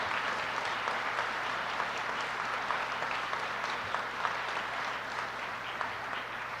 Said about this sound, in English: How about another round of applause for all of our award winners today?